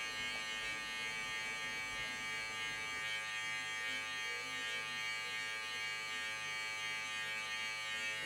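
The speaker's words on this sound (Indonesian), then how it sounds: "Jadi kita blending menggunakan sudut kiri maupun sudut kanan clipper itu sendiri ya." Electric hair clipper buzzing steadily while blending a taper fade haircut, a continuous close mechanical hum with a slight change in tone partway through and no speech.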